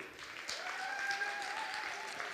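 An audience applauding at a gala, a steady wash of clapping from a crowd, moderately loud and continuous, with a faint whistle tone rising through it.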